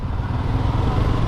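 A BMW S1000 R motorcycle passing on a street, its engine a steady, loud rumble that holds even through the short moment with no voices.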